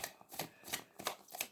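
Tarot cards being shuffled in quick, soft riffling bursts, about four short rustling pulses in a row, close and quiet.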